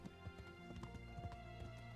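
Horse hooves clip-clopping at a steady running rhythm in the video game Kingdom Come Deliverance, a continuous mid-level patter layered over game music and ambience, with no talk.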